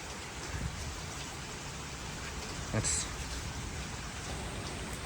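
Heavy rain pouring steadily onto a back porch, a dense continuous hiss with one brief louder splash or clatter partway through, close by and filling the whole stretch.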